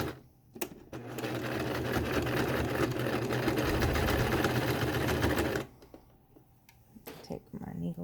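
A sewing machine runs steadily for about five seconds, stitching a seam on a fabric face mask with a short backstitch, then stops, leaving quiet handling noises.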